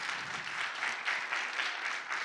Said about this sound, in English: Come on, a hard clap.